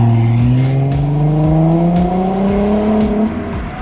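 Car accelerating hard on an open road, the engine note climbing steadily through the rev range, loud and close from inside, then easing off at the end with no talking.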